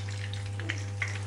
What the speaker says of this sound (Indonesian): kita akan goreng cabai merah keriting dan juga bawang merah